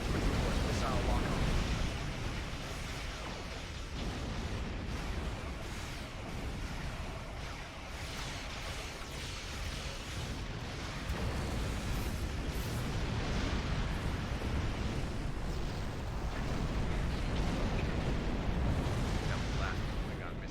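Klingon missile explosions in the space game Star Trek Online, heard as a long, heavy roar of blasts and rumbling booms that never lets up, loud and dense from start to finish.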